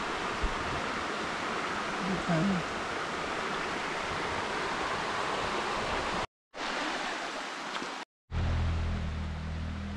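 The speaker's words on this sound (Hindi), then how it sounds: "ऐसे फ्लो करता है पानी यहाँ से" Water rushing down a mountain stream in Uttarakhand, a steady broadband roar close by that fills the scene, cut by two brief gaps of silence near the end.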